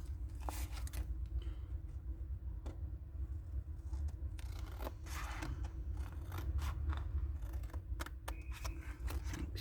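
Repeated crisp snips of scissors cutting material, close and fairly faint over a constant low background rumble, arriving in an irregular series of short bursts.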